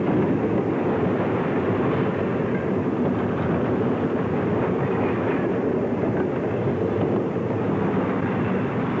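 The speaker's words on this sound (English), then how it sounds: "Mikado number 484 is again seen, this time on a local freight again near Kilby" A Virginian Mikado steam locomotive, number 484, hauls a local freight train near Kilby in a continuous, loud, broadband rumble and roar with a faint rhythmic clatter of cars, heard with no voices.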